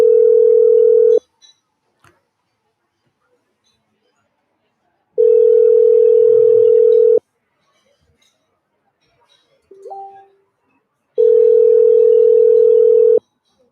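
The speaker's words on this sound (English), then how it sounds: "Let me try and call him on the phone and see if he's able to connect." A telephone tone sounds as three long, loud, steady beeps separated by silences, with a brief faint chirp between the second and third.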